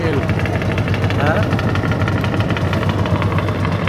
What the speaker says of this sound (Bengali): বড় জাহাজ যাচ্ছে।